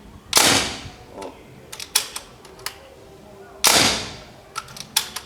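A T-Rex PCP Flex Power air rifle fires twice, each a loud sharp crack with a brief decaying tail, spaced a few seconds apart, with lighter mechanical clicks and handling noises between the shots.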